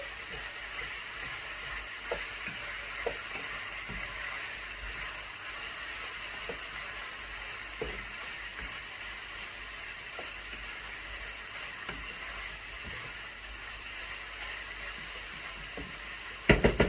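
Eggplant filling fries in a pan with a soft, even sizzle running throughout, with faint scattered ticks and a brief clatter at the very end.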